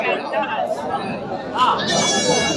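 A young lamb bleats at the Ranipettai goat market, a few short cries rising through busy crowd chatter and close bargaining voices.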